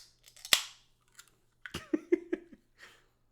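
Plastic packaging crinkling during a Gunpla model kit build, heard as a sharp snap followed by a short burst of crackly rustles, close and fairly quiet against a silent background.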